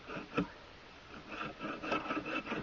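A Coleman camp saw cutting a firewood log on a winter camping trip: faint, steady rasping strokes in an uneven back-and-forth rhythm, heard alone at a distance.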